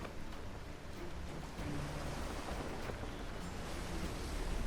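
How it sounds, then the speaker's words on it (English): Storm waves at sea in Assassin's Creed Black Flag: a steady, broad roar of churning water and wind that swells slightly partway through and continues without pause, with no voices. "Look at these massive waves."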